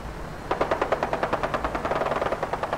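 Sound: gunfire in the video game Fallout 4

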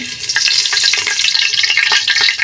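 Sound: torn bay leaf frying in hot oil

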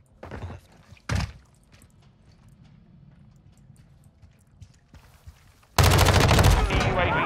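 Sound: MP5 submachine gun fire in the video game Modern Warfare 2

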